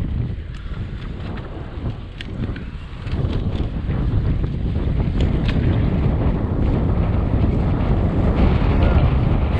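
Strong headwind roars across the microphone of a cyclist out on a ride, a loud, continuous rushing buffet that gusts and builds stronger after a few seconds and stays heavy to the end.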